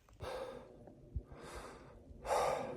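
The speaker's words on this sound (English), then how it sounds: "that's me panting" A hiker climbing uphill on the Appalachian Trail pants heavily and close to the microphone, taking three loud breaths with short pauses between them and faint thumps of footsteps underneath.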